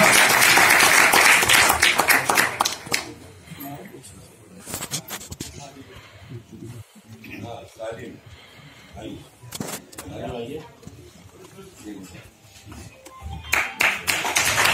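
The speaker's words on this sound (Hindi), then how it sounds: "जोरदार तालियों से स्वागत कीजिए समीर साहब का।" Loud applause from an audience at an anniversary and award ceremony at the start, fading under a speaking voice and a murmuring crowd, then a fresh burst of clapping near the end.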